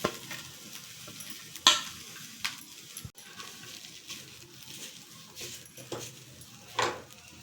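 Grated boiled potato cooks in a pan to dry out its moisture, with soft sizzling and stirring scrapes, a few clinks of a utensil against the pan, and quiet intermittent movement throughout.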